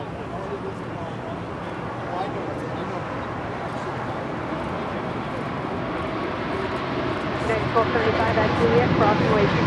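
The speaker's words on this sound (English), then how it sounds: "Korean Air Cargo Flight 8274 is now rolling on 25 right to Seoul." Jet engine roar of a Korean Air Cargo plane rolling for takeoff on runway 25 right at LAX, a steady broadband rumble that builds gradually in loudness across the clip, heard from a distance.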